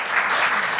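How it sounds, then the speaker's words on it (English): Conference audience applauding two speakers after a talk on sickle cell apheresis, a dense steady wash of clapping from a full room, even and sustained throughout. "A round of applause for our two wonderful speakers"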